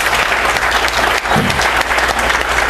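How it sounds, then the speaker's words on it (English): An audience applauding: dense, loud, sustained clapping from a crowd, close and continuous throughout. "So how about we'll just applaud to our dads."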